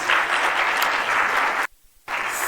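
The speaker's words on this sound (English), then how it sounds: "That's a success story in itself that we need to applaud." An audience at an evening event honoring a judge breaks into steady, full applause, dense and even, then cuts off abruptly before resuming.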